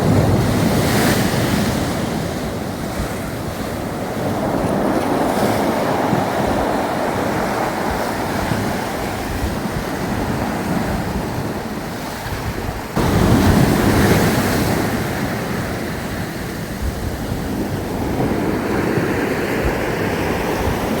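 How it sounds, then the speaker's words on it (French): Sea waves surge and break against a chalk cliff wall near the Penly coast, a loud continuous roar of surf with wind buffeting the microphone, swelling again midway through. "Tu vois la mer comme elle vient frapper la paroi là"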